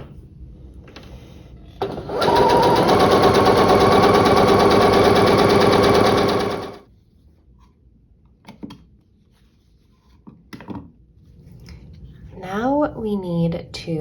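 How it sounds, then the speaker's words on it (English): A sewing machine stitches a seam on a quilt block in a continuous, even whirring run of about five seconds. Quiet handling noises follow, and a person speaks near the end. "I find when I start sewing from the point, sometimes my machine can suck that point down into the machine"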